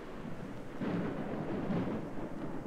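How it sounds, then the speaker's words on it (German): A thunderstorm in the video game Obscuritas rumbles low and distant, with two soft swells of thunder over a constant hiss of rain. "Ah, das Gewitter weiß anscheinend, dass wir richtig sind."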